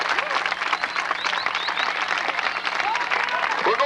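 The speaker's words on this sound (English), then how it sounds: "Would you please give him a big round of applause" Rodeo crowd applauding a bareback rider at a Kansas event, steady dense clapping mixed with whoops and scattered cheers from a large grandstand, continuous and fairly loud throughout.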